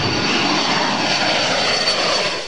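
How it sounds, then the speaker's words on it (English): A U.S. military spy plane flies overhead on a counter-narcotics patrol above a drug trade route, its engine a loud, steady droning roar that continues without a break and with no voices. "But above the fishermen's heads, look closer. A U.S. military spy plane is on a mission to catch cocaine-loaded speedboats"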